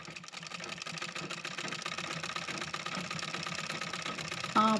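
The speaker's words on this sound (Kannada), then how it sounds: "ಇವಾಗ ನಾನು ಅದನ್ನು ಹೊಲಿ ಹೊಲಿಗೆ ಹಾಕ್ಕೊಳ್ತಾ ಇದ್ದೀನಿ ಮೂರು ಕಡೆಗೂ ಹೊಲಿಗೆ ಹಾಕ್ಕೊಳ್ಳೋಣ" A sewing machine stitches the seams of an old churidar top, a close, rapid, even mechanical hum with a rhythmic needle patter, running steadily for a few seconds.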